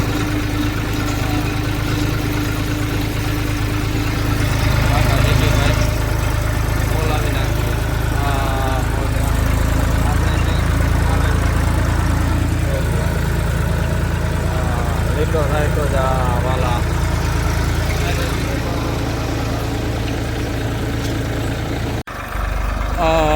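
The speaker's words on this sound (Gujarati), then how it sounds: "બે ટ્રેક્ટર બાજુમાં જ હાલે છે આપણે." Steady low engine rumble of two tractors, one pulling a rotavator, running continuously nearby while sowing sesame on a farm plot, with voices talking over it throughout.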